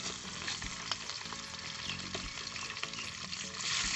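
Tangra fish frying in hot oil in a pan, a steady loud broadband sizzle with crackling pops and spatters throughout, no voices.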